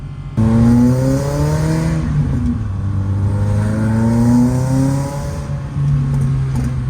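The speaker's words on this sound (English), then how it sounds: "Great backfires on this." A VW Golf GTI Mk1 16V engine revs loudly and repeatedly up close, its pitch climbing and falling with each blip amid backfires, and no voices over it.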